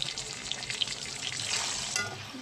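Eggplants frying in oil with salt and turmeric, giving a steady close sizzle while being stirred briefly in the pan.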